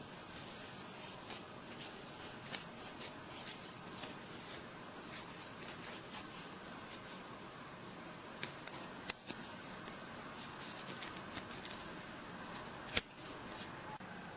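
Foam insert for a Plano single rifle case is cut along a traced outline, giving quiet, irregular snips and scraping rubs close by with small sharp clicks and no talking.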